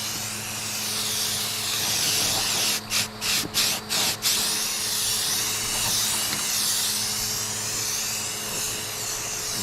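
Spray paint hisses continuously and loudly while the second coat goes onto an old bobber chopper motorcycle. A run of four short bursts and pauses comes midway through, and the hiss then continues steadily.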